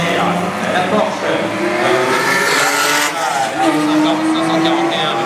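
An Alpine Berlinette race car roars past at a historic street-circuit race, engine note rising and falling under steady commentary, with crowd and track ambience behind.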